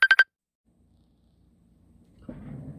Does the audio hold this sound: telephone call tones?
yes